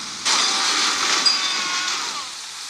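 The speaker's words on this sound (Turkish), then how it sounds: "Arabanın yan motorunun sesi gelecek birazdan." A car engine in the video game L.A.C roars steadily with a broad, loud whine and hiss after starting abruptly, holding fairly constant for a couple of seconds, close and without talk.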